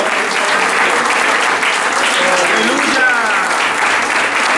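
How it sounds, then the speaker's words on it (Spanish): Congregation applauding during a Sunday school sermon in a church, loud continuous clapping from a large crowd that stays steady throughout, with voices faintly mixed into the applause. "Denle un aplauso a la gloria al Señor"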